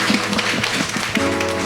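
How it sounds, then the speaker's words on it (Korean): Church congregation at a Sunday worship service clapping together, a steady rhythmic stream of hand claps under sustained organ or keyboard tones, loud and continuous throughout. "다시 한번 하나님께 감사와 영광의 박수 올려드리겠습니다"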